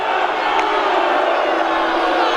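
Basketball arena crowd at a UNC Asheville vs Radford college game roaring steadily in disapproval after a foul call on Asheville, a dense, loud wash of voices sustained throughout.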